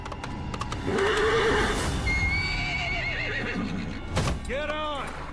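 Horses whinny loudly amid Metal Gear Solid V: The Phantom Pain game sound effects and a busy mix, with a second burst of neighing near the end; voices talk underneath.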